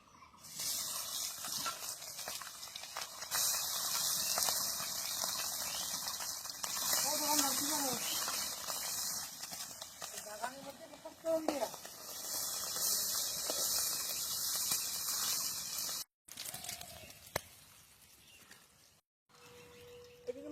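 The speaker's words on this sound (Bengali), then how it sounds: "মাছগুলো ভাজা হতে থাকুক" Steady, loud hiss of small puti fish frying in hot mustard oil runs through most of the clip, with a few faint tonal sounds over it, then it cuts to quieter moments.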